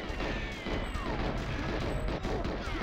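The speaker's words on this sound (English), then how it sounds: "Oh, those explosions." Explosions and gunfire in GoldenEye on the Dam level, a dense, continuous rumble of blasts and crackling shots filling the whole stretch.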